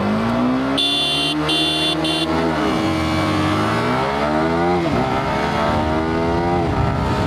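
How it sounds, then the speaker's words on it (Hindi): A Yamaha R15 V4 and a KTM RC200 launch in a drag race. Engines rev hard through repeated climbing and falling shifts, with a short horn-like tone near the start. Loud and close throughout. "चलो लॉन्च करते हैं बाइक्स को।"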